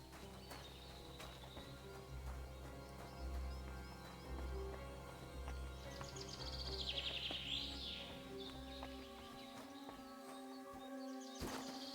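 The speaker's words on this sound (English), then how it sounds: "Oh god, that bird is loud." Bird calls in Kingdom Come: Deliverance II, a bright chirping phrase rising over a layered ambient game soundscape with low droning tones, with a sharp burst near the end.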